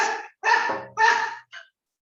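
A dog at home barks in four sharp, close barks with short gaps, the last one shorter and quieter, heard alone.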